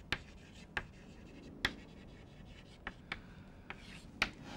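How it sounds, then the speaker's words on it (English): Chalk or marker tapping and scratching on a board during a mathematics lecture on Riemann surfaces: a handful of short, sharp strokes spaced irregularly across a quiet room, with no talking. "So let me write pi"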